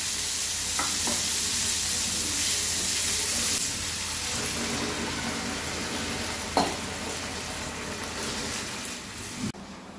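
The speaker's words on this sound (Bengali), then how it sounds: "মশলাটা কষানো হয়ে গেছে, এবার আলুটা দিয়ে একটু কষিয়ে জল দিয়ে দেব।" Potatoes frying and being stirred in a spice paste for a Bengali dish, a steady broadband sizzle with a few sharp utensil knocks against the pan, close and continuous with no voices.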